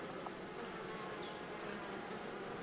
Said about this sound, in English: Alright, we have our queen bee in the cup.